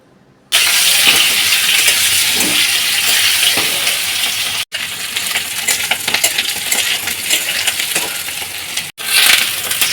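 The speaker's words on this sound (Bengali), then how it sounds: "আলুটা বেছে নিয়ে আলুটা তেলে ভেজে নেব" Boiled potatoes dropped into hot oil in a wok burst into a loud, sustained sizzle after a quiet start, with scraping stirs and two brief cuts in the frying noise.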